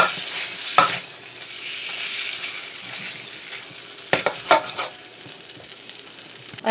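Food cooking in oil in a pan, a steady close sizzle broken by a few sharp clinks and scrapes of a utensil against the pan, with no voices.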